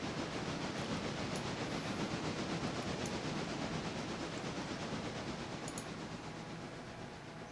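Train from a rail simulator game rolling steadily along the track, a continuous dense rumble with faint clickety-clack and hiss, close and even, gradually easing slightly toward the end, with no talking.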